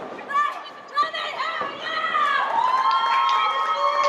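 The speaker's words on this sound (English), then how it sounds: "Crowd rallying behind Kennedy." A wrestling crowd at a fatal four-way match cheers and shouts, rising into sustained loud whoops and chanting, with sharp impacts and a commentator talking over it.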